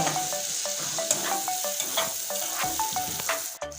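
Onion and chili with turmeric fry in a pan, a steady close sizzle with soft scraping stirs repeating throughout, no talking.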